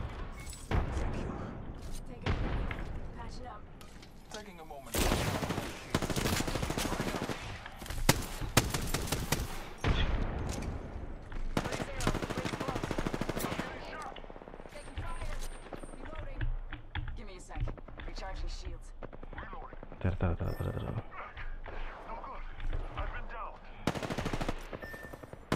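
Bursts of automatic and single gunfire ring out in an Apex Legends match, loud and dense in places, mixed with other game effects and a player talking over the action.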